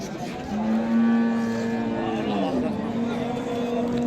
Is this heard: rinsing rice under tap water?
no